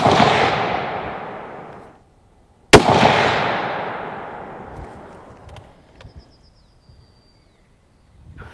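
Two loud rifle shots from a 7mm Remington Magnum, each a sharp crack followed by a long rolling echo that fades over a couple of seconds, heard outdoors with no talk.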